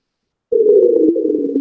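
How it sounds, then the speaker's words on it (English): Robotic arm of the InSight lander on Mars, a sudden loud mechanical hum that starts abruptly and holds steady with small clicks and shifts in pitch. "that is the sound of InSight's robotic arm."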